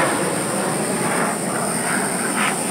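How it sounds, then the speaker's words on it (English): Military jets fly overhead near an Air Force base, a loud continuous roaring rush that fills the whole stretch with no voices. "excuse the jets flying by"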